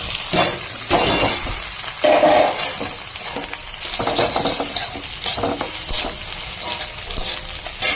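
Steady stirring and scraping in a hot pan as ingredients are mixed into scrambled egg, with a continuous sizzle and repeated utensil strokes close by, no voices.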